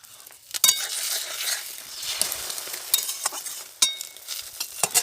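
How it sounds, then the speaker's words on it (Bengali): Eggs frying in hot oil in a wok, one after another, with a steady crackling sizzle and occasional sharp spatula scrapes and clinks against the pan, close and fairly loud, no talking. "আমি এবার একে একে 4টে ডিমই ভাজা করে নেব।"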